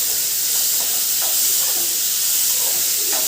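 Grated radish sizzling and frying in a pan while being stirred, a steady hiss with soft scraping strokes of the spoon throughout, close and continuous, no talk.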